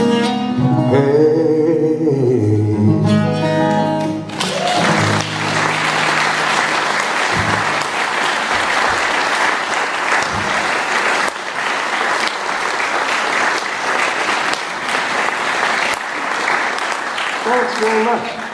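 A concert audience applauds after a live folk song, with strong, sustained clapping filling the room from about four seconds on and continuing steadily to the end, following the last sung notes.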